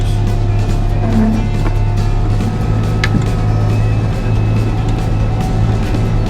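A Kubota M135GX tractor driving a Normand N98-342HTR snowblower roars steadily and loudly throughout, a constant low engine drone with blower rush and wind noise and no pauses.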